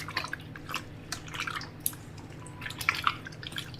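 Water trickling and dripping off freshly washed raw prawns, a series of quiet, close, irregular drips and small splashes with no talking.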